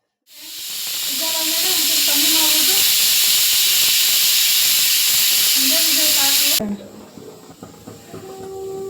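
A pressure cooker cooking tomato bath lets out a loud, continuous hiss of escaping steam for several seconds close by, then cuts off abruptly, leaving quieter clinks and rattles.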